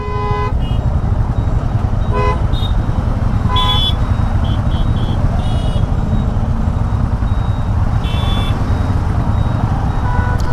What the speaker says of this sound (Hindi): उधर से गाड़ी, इधर से गाड़ियाँ, इधर से भी गाड़ियाँ